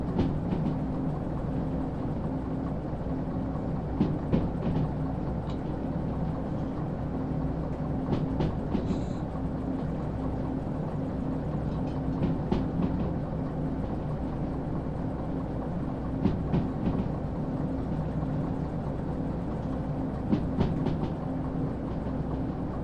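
A train rolls along steadily in the video game Derail Valley, a low continuous rumble with faint periodic clicks of wheels over rail joints, with no talking.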